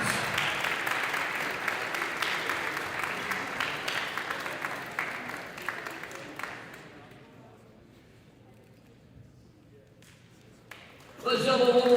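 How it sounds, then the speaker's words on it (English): A gym crowd at a men's college basketball game gives warm applause for the graduating players. The clapping is strong at first, tapers away by about seven seconds into near silence, and then a voice starts over a speaker system near the end. "Let's have a warm round of applause for our graduating players."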